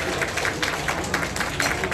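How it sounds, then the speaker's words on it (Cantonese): Guests applaud the newlyweds at a wedding banquet, a steady dense clapping that fills the room without a break for about two seconds. "我哋一齊用熱烈嘅掌聲祝賀一對新人"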